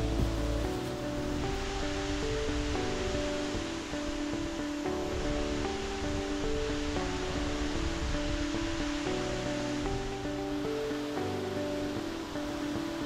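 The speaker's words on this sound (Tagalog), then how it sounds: "The water falls on a wide rock face wall from a height of 30 meters into a shallow pool" A 30-meter waterfall spilling down a wide rock face into a shallow pool, heard as a steady, dense roar of rushing water that holds constant throughout with no talking.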